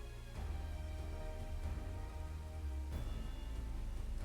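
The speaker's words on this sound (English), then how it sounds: "I just realized it's raining in Garlemald" Rain falls in Garlemald in Final Fantasy XIV, a soft, even patter heard faintly beneath a low droning musical backdrop.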